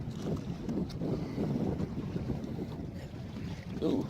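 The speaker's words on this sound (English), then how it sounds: "It's super windy today." Steady wind buffets the microphone outdoors on the Tennessee River, a low rushing roar with gusts, no clear talking.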